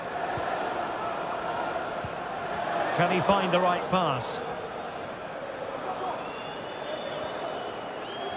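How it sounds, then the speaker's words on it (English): Steady stadium crowd noise from a FIFA 23 World Cup final, Argentina vs Portugal, a constant roar beneath a commentator's voice that swells briefly. "Being egged on by the crowd"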